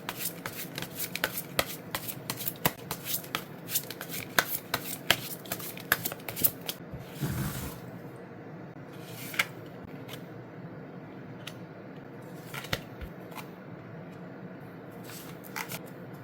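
Tarot cards are shuffled by hand in rapid, crisp riffles and flicks, close up and fairly quiet, with a brief smoother slide partway through and then sparser taps and snaps.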